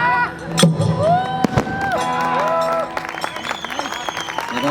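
An audience applauds and cheers at a live Gujarati bhajan performance, with a dense wash of clapping that mixes with lingering sung or instrumental tones and sharp accents throughout.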